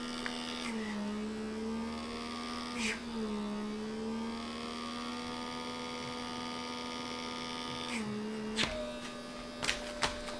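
A vacuum sealer pulls air from a bag holding raw tri tip, a steady close electric hum and whine that shifts pitch a few times and ends with brief clicks, no talk.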